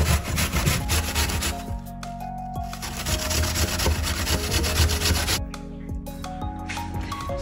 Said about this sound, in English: And then we are gonna grate 1 apple